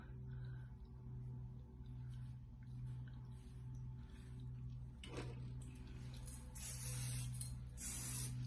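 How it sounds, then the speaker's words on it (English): Quiet background hum, then short hissing bursts of medium-hold hairspray near the end, close by, with no talking. "I'm just kind of spraying my medium hairspray"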